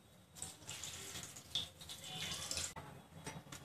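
Water pours and splashes steadily into a bowl of curd and semolina batter, a continuous trickling stream with small shifts in flow.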